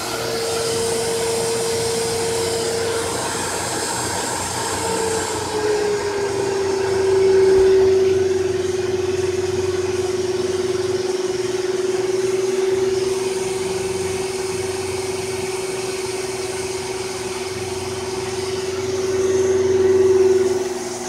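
Shop vacuum running steadily, its loud whine dropping in pitch as the motor is turned down to about half power, a continuous drone that keeps much of its volume while the tone lowers.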